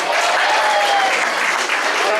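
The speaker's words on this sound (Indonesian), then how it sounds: "Tepuk tangan untuk Pak Ketua" An audience claps for the chairman at a sermon at a theological college, steady dense applause filling the room, loud and even throughout.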